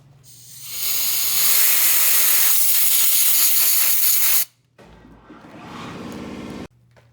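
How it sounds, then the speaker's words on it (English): Compressed air from an air hose blasts out a Pontiac Sunfire car starter in two loud, harsh hissing bursts, the first long and the second shorter, separated by a brief pause. "Now we got the air hose right there. Just gonna blow it out and then add some WD-40."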